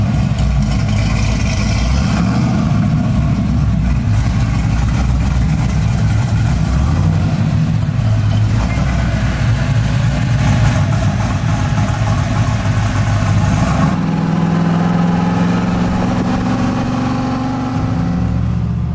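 Supercharged LS3 in a 1,000 hp Chevy Nova Pro Touring build, a steady loud rumbling drone while driving, with a throttle blip near the end that drops back to a lower idle.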